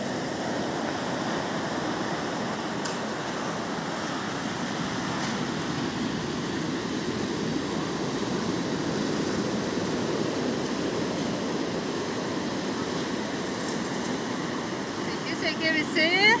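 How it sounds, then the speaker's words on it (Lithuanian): Rough sea waves break on a beach at Happisburgh, a steady, loud rushing wash of surf that continues without pause and swells slightly toward the end. "Jūra šėlsta."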